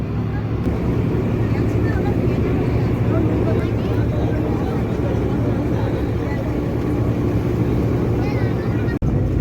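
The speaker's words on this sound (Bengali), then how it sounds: "আরো একটা লঞ্চ যাচ্ছে ওই দ্বীপের দিকে" A motor launch engine drones steadily with a low rumbling hum and wind buffeting the microphone, continuous throughout and fairly loud.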